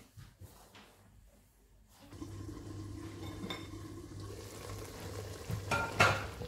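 Onions and tomatoes fry in a pan for an Algerian chakhchoukha red sauce, a quiet start giving way to a steady close sizzle with a brief louder clatter near the end.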